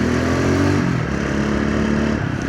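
A motorcycle engine revs hard and close while overtaking on a solo ride in Kavre, Nepal, a loud continuous drone that shifts pitch midway with some rattling clatter over it.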